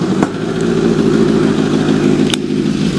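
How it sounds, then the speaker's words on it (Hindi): Kawasaki Ninja Z900 with a modified full-system exhaust idling close by, a loud, steady low rumble with a couple of brief clicks, and no talk. "और अब इसके बाद मैं सुनाता हूँ इसकी एग्जॉस्ट की साउंड"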